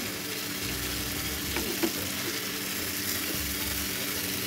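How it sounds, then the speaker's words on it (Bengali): Hilsa fish and boiled green plantain sauté in a pan, a continuous close sizzle with soft stirring scrapes and one brief clink. "সবগুলো একটু কষিয়ে দিয়ে দিচ্ছি ইলিশ মাছ।"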